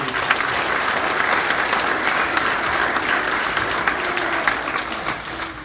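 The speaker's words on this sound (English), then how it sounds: "So give her a round of applause, too" Audience applause for a junior high basketball player at an awards night, a steady crowd clapping evenly for several seconds before easing slightly at the end.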